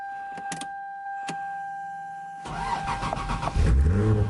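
A Lexus car with a nearly dead battery cranks and its engine catches at about 2.5 seconds, then runs loudly and roughly. A few clicks and a steady electrical whine come before the start.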